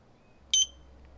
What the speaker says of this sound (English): Okay, there's the first beep.